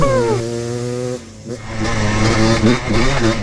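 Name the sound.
ported two-stroke Yamaha Blaster ATV engine revving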